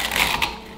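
Snack chips ground into crumbs for nuggets, a short burst of crunchy mechanical grinding with a couple of quick clattering pulses, close and fairly loud.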